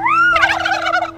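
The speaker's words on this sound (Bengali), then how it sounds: "ময়ূরী ওই ডাকছে।" A peahen calls nearby during a road trip to Mukutmanipur: a loud, clear rising note followed by a quick burst of harsh, cackling notes, with no other sounds over it.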